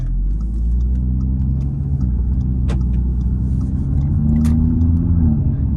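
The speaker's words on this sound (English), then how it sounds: "So that's normal driving." An 8V Audi RS3 cruising in normal driving with the windows up, a steady low engine drone and road rumble heard from inside the cabin, with a slight rise in engine note toward the end.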